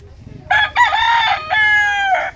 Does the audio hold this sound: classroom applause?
no